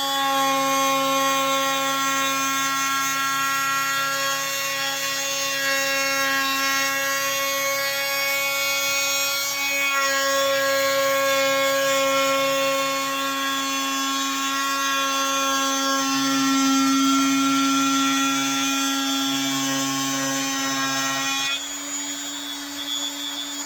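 A handheld power tool rounds over the edge of a wooden cutting board, holding a loud, steady whine close by for over twenty seconds. The pitch shifts slightly as it moves along the wood, then drops when it comes off.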